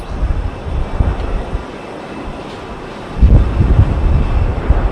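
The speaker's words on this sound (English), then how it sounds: "Turkish Airlines, it's the Airbus A330, it's coming in from Istanbul." A Turkish Airlines Airbus A330 cargo jet coming in from Istanbul to land at Heathrow, heard as a broad, steady engine roar mixed with gusty wind noise, swelling louder toward the end.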